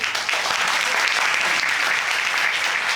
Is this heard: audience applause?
yes